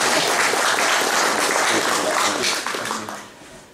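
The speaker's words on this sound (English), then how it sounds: "Big round of applause for Wicky on the inbox." A congregation at Jerringong United Church morning worship applauds a welcomed guest: close, lively clapping from a group that stays steady, then thins out and fades over the final second.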